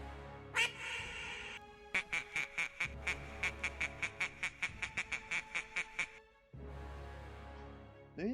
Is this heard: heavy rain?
no